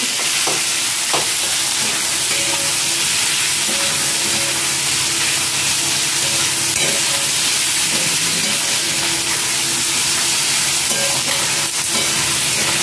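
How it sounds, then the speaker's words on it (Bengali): Tomato, onion and capsicum frying in a pan for biryani, a steady close sizzle and hiss with occasional stirring scrapes running without a break. "আর এই টমেটো দিয়ে একটু ভালো করে ভেজে নিই"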